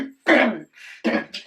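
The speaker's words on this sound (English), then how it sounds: "This lurgy that hubby's passed me is causing a right throaty cough" A person with a cold gives a throaty cough, with a first harsh burst followed by a second shorter hack and a brief breathy tail, close and fairly loud.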